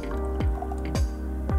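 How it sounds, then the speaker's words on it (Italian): Water drips into strawberry pulp in three distinct, evenly spaced drops, each a close plopping splash over a quiet kitchen background. "Andiamo a integrare acqua fino ad avere un peso totale di 230 grammi"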